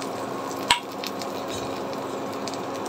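Ripe-banana malpua batter dropped into hot oil: one sharp splat, then a steady, close sizzle and hiss that holds evenly to the end.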